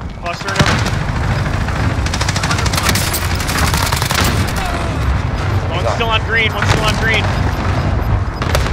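Airstrike explosions rain down in Call of Duty Warzone, a dense rolling barrage of blasts and rapid gunfire filling the soundscape while players talk over the chaos.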